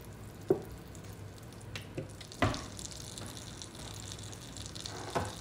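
Butter and olive oil melting in a pan make a faint, steady sizzle, broken by a few sharp clinks and taps of a utensil against the cookware.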